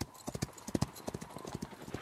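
A horse sets off from the palace stables with a rider, hooves clip-clopping in a steady close rhythm of distinct strikes, with faint background murmur.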